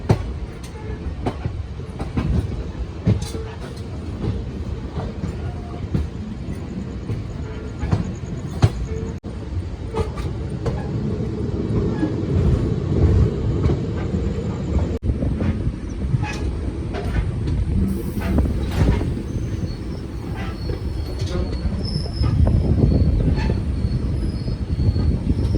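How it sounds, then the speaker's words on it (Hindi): Mussoorie Express pulling out of Chandpur Siyau station, a continuous rumble of rolling wheels with clanks and squeals that grows heavier as the train gathers speed. "मसूरी एक्सप्रेस का चांदपुर स्याऊ से डिपार्चर"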